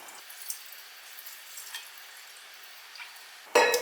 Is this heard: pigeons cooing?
no